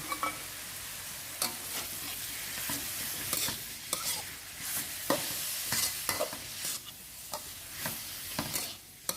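Stirring and mixing chili paste with tamarind water, fish sauce, sugar and salt in a pan, with soft scraping strokes and light sizzling repeating close by at a moderate, uneven rhythm, no voices.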